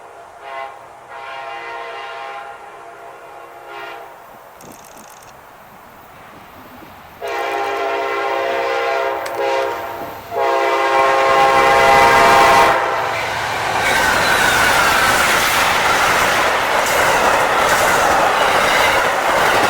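A passenger train led by a P42 diesel locomotive sounds its horn in long blasts, then its engine roar and rumbling wheels build loudly as it pulls away.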